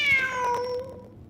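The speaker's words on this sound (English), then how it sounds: "The cat!" A cat meows in the Genshin Impact video game, one clear, drawn-out meow that rises and then falls, close and alone over a soft background hum.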